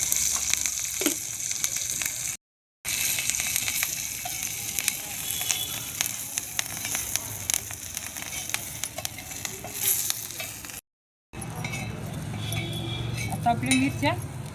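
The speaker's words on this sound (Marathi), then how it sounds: "आता या मिरच्या भाजून घेते आधी." Green chillies roast in a little oil in a home kitchen pan, a continuous crackling sizzle with stirring clinks and scrapes, broken by two short silent gaps, while someone talks over it.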